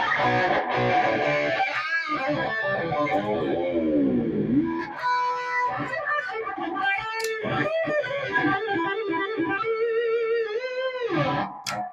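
Overdriven Washburn N-series electric guitar through a Demon FX Dirty Boost pedal, playing melodic bends and sustained notes with a gritty, boosted tone, loud and continuous with no talking.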